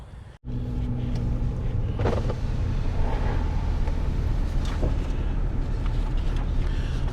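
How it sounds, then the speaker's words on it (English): A camper vehicle rolls slowly into a Florida campground at Silver Springs, its engine rumbling steadily and close after a brief dip at the start, with faint road and tyre noise throughout and no talk. "So this is a drive into the campground area."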